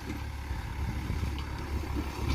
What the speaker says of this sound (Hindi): एक बार ये बता दो ट्रैक्टर की आवाज़ कैसी लग रही है